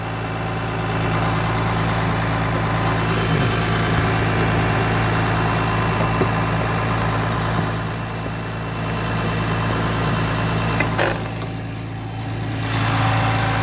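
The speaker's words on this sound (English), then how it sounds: "You can really hear the power of the diesel motor." A 2021 Jeep Wrangler Rubicon with the 3.0 EcoDiesel engine runs at a steady idle under the open hood, giving a continuous low diesel drone with a couple of faint clicks.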